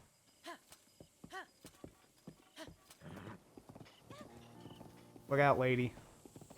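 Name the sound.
horse hooves clip-clopping in a Zelda video game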